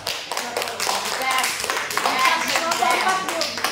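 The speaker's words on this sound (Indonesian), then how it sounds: "tepuk tangan untuk kelompok" A classroom group gets a round of applause: dense, continuous hand clapping from many people fills the whole stretch, with voices talking underneath.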